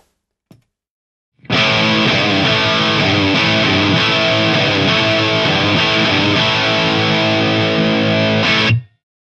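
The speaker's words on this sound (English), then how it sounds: "another rockier sound available like this" Electric guitar through a practice amp's overdrive channel, a sustained, heavily distorted rock chord riff that holds loud and dense for about seven seconds before stopping abruptly.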